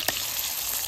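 Sarputi fish frying in oil in a pan, cooked with mustard greens, gives a steady close sizzle with a brief clatter as the fish is flipped.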